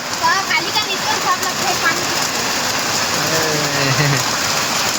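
Steady rain pours down, a dense hiss of falling water filling the scene, with a voice speaking faintly underneath.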